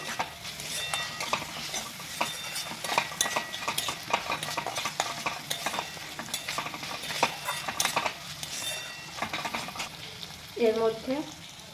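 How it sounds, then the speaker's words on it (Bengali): Chicken being stir-fried with spices for chow mein, a steady sizzle broken by repeated clanks and scrapes of a spatula against the pan, with a brief louder clatter near the end. "এরপরে আরেকটু ভেজে নিব মশলার সাথে। ভালোভাবে মিক্স করে নেব চিকেনের সাথে।"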